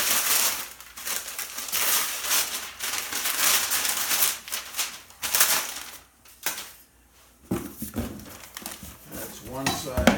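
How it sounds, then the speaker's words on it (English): Stand pieces for a Pure Water Midi Classic water distiller being unwrapped from their packaging, with continuous crinkling, rustling plastic and paper and occasional light clinks of the parts, close and busy before a brief lull, with talk at the end. "So I'll unwrap the stand pieces."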